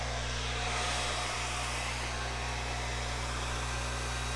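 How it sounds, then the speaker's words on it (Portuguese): A hair dryer runs steadily at a constant pitch for the whole stretch, a loud even whoosh of air with a low motor hum beneath it and no talking. "Secador"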